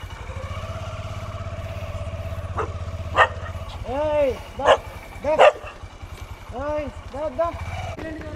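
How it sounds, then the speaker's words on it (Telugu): A dog near a crowded temple area barks in a quick series of sharp yaps partway through, over a steady low engine hum and faint background noise. "ఇది కుక్క కూడా"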